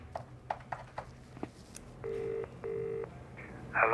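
A telephone is dialled for a call: keypad button clicks come first, then two steady ringback tones, quiet and close, with no voices.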